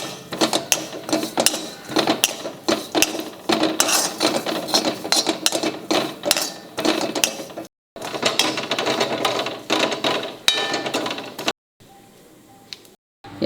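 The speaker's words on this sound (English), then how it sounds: "I'm putting this dry masala in the grinder along with fried onions to grind and the coconut." A kitchen mixer grinder whirs and rattles in loud bursts while grinding dry red masala with fried onions and coconut, stopping briefly twice before a quieter final stretch.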